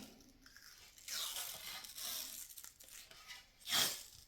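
Hockey tape peels off the roll and wraps around a hockey stick in overlapping strips, giving short ripping bursts that come close and alone, with the sharpest tear near the end.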